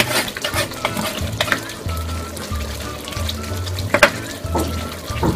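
Mussels with tomato and chopped herbs stirred in a pan over lowered heat, a steady sizzle and frying crackle under repeated scraping stir strokes, close and moderately loud with no talking.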